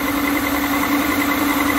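A 2HP three-phase motor spinning at 3000 RPM gives a loud, constant hum with a steady tonal whine, unchanging from start to finish.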